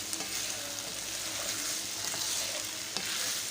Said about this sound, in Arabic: قلب تقليبة حلوة كده، الفلفل والبصل يذوبوا كده ويتكرملوا معاها، والثوم